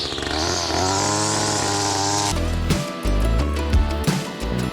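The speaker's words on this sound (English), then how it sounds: "we should get the weed whacker out, and we should weed whack all this stuff around my fencing stuff" A string trimmer cuts weeds along farm fencing with a loud, high-pitched two-stroke whine, holding steady at first, then dropping and surging in rough bursts as the line bites into the growth.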